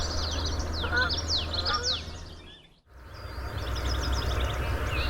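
A yellow warbler sings repeated bright, quick phrases outdoors, fairly faint against steady low background noise, with a brief dropout midway before the song resumes.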